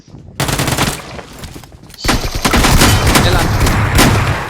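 Bursts of automatic gunfire in PUBG, loud and close, a rapid rattling run, a short gap, then a longer sustained volley, with a voice audible underneath.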